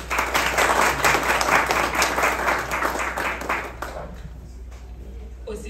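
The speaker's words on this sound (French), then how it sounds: "Sous vos applaudissements, s'il vous plaît." An audience at a school ceremony in Nippes, Haiti, claps steadily in dense applause for nearly four seconds, then it thins out to a few scattered claps.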